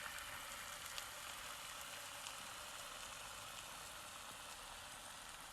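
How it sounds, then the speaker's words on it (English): Half a shallot fries in two spoons of olive oil on a hot stove, giving a steady, soft sizzle and crackle that runs evenly throughout with no voices. "In a hot stove, I add 2 spoons of olive oil, the half shallot and fry it until it's colored."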